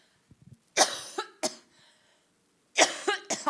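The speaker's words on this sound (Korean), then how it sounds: "기침이 이게 안 떨어지네요" A person coughs in several loud, close bursts separated by short pauses, including a double cough toward the end.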